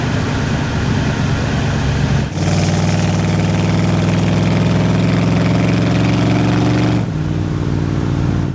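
A 1960 Chevrolet Bel Air, a low customized car, idling steadily with a deep, even engine rumble that swells louder for a stretch mid-clip before settling back, close by with no talking.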